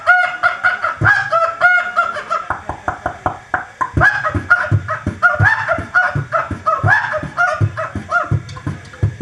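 A mimicry artist imitates a chicken with rapid, loud clucks and squawks, repeated in quick bursts throughout, close to the listener.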